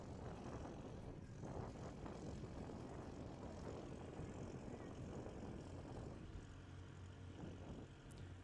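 A green and orange Cub light propeller airplane idles at the start line of a STOL competition in Pinedale, Wyoming, its engine a faint, steady drone with a gently pulsing rhythm throughout.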